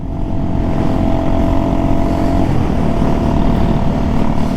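An old Honda Shadow motorcycle engine idles steadily nearby, a loud, even low rumble that holds for several seconds without revving, and no one speaks over it.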